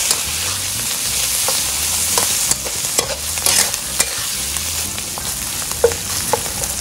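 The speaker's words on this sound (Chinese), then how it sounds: "把豆瓣酱跟这些结合在一起， 炒出那个红油出来" Doubanjiang bean paste stir-fried with chopped Yongchuan fermented black beans for mapo tofu, a loud steady sizzle broken by frequent scraping and clacking strokes of a spatula, with no voices.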